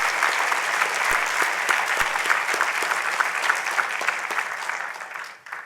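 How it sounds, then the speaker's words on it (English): Audience applause at a university graduation awards ceremony, a dense sustained roar of many hands clapping in a hall, steady and loud before fading away at the end. "So can we please give a round of applause to friends,"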